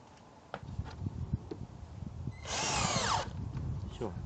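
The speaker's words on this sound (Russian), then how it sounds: "прикручу я там саморезиком." A drill drives a self-tapping screw into a wooden router compass jig, one short, loud whirring burst in the middle of a quiet workshop with scattered handling knocks.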